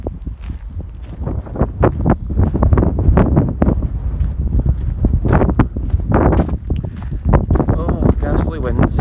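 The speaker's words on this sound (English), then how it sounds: "And it's very windy here as well" Strong gusty wind buffets the microphone in loud, uneven rumbling bursts, close and continuous, with indistinct speech mixed underneath.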